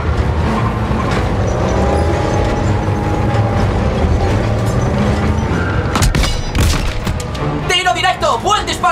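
Panzer tank cannon fire and explosions in the Call of Duty WW2 video game, with a dense, continuous roar of battle, heavy booms and a cluster of sharp blasts near the end, while soldiers' voices shout over the noise.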